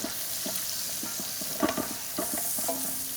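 Lobster with ginger and thyme grilling gently over low heat gives a continuous sizzle dotted with light tapping and scraping clicks, brief and close.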